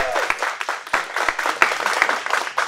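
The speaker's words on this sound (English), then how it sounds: "So everybody clap for Christina." A small group at a martial arts black belt test claps, with individual sharp hand claps audible in an uneven, close patter that stays moderately loud and has no voices over it.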